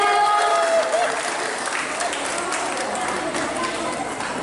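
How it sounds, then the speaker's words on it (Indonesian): A congregation claps for Kolom 3 during an Easter service at GMIM Ekklesia Singkil Luar church, steady full-room applause from the start with a brief faint voice early on, continuing evenly to the end. "Tepuk tangan yang meriah untuk Kolom 3."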